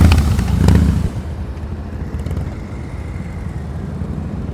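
A motorcycle engine rumbles at low speed during slow-speed riding practice, a louder burst of throttle at the start easing into a steady, moderately close putter with no talking.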